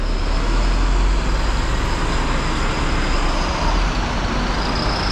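A VRL Travels Eicher 1525 bus pulls into a busy bus station, a loud, steady rumble of engine and road noise that stays close throughout without a break.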